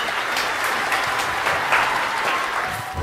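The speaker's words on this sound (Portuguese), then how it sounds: "Palmas." Applause from a small audience at a homemade circus act staged in a house after a juggling-style ball trick, steady dense clapping filling the whole stretch at close range, with no talk over it.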